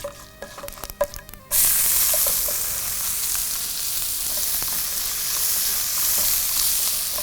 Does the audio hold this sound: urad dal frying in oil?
yes